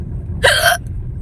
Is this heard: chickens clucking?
no